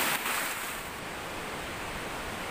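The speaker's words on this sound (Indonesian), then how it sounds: "akhirnya saya sekarang sampai di dasar atau paling bawah air terjun Tumpak Sewu ini" Tumpak Sewu waterfall heard from its base, a constant roaring wash of falling water, broad and steady like heavy surf, with no voices.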